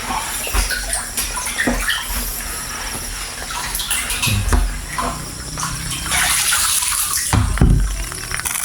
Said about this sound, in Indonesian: Kita aduk supaya untuk kotoran-kotoran di dalam itu bisa bersih loh.